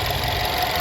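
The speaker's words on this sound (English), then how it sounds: "Engine's running nice and smooth as it should." The 2.0-liter turbocharged engine of a 2023 Jeep Compass 4x4 Limited idles smoothly, a steady close hum with an even, continuous rumble and no voices.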